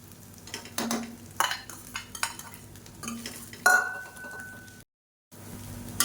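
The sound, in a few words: stirring egg fried rice with boiled egg pieces in a pan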